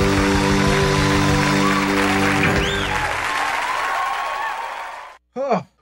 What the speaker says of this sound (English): give him that standing ovation, bro